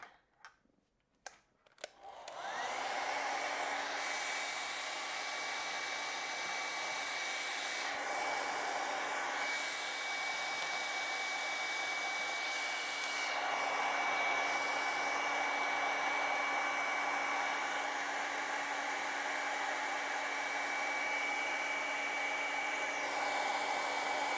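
A handheld hair dryer blows steadily over a watercolor pig painting. After a few brief clicks, a loud, close, continuous whine and rush of air holds at a constant pitch, with slight shifts as the dryer moves.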